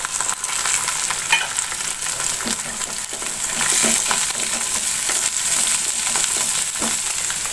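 Onion added to bitter gourd and potato frying in oil in a home kitchen, a dense continuous sizzle that swells midway, with occasional stirring scrapes and no voices.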